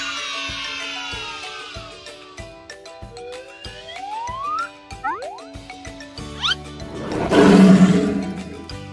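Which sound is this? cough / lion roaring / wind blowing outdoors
lion roaring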